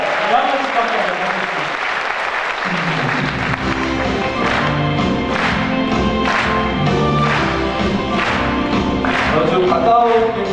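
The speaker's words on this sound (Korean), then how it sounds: "큰 박수!" A church congregation applauds together, starting faintly under a voice and swelling into steady, rhythmic group clapping that fills the hall, with singing or speech blending in over it.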